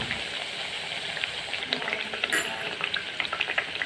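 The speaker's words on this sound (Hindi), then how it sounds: "मीठी मठरी को हमने पलट दिया है और अब इसको धीमी आंच में ही दोनों तरफ उलट पलट के हम तल लेते हैं।" Sweet wheat-flour mathri fry in oil on a low flame, a continuous close bubbling sizzle with small crackles and a few sharper pops, alone and without voices.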